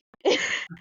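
A single close, sharp sneeze bursts out after a quick breath, followed by a brief softer exhale.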